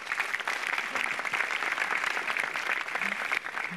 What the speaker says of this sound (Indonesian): Beri tepuk tangan yang meriah sekali lagi untuk Pak Fahri, dosen dari Bandung.